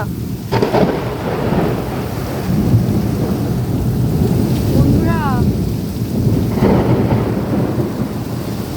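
Loud thunder rumbles over steady heavy rain during a cyclone, with the downpour roaring throughout and a voice speaking briefly.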